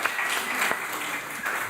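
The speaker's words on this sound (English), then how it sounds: "Well-deserved applause." A crowd applauds the musicians indoors at a Sunday church service, a dense wash of many hands clapping steadily at moderate volume, with no voices standing out.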